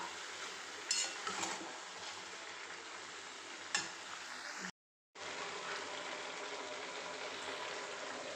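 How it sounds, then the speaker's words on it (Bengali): Spices and ginger-garlic paste are stir-fried in a pan, a close, continuous sizzle with spoon scrapes and metallic clinks on the pan, cut by a brief silence before the frying resumes. "দিয়ে এবারে ভালো করে কষিয়ে নেব, আর একে একে সব মশলাপাতিগুলো দিয়ে দেবো"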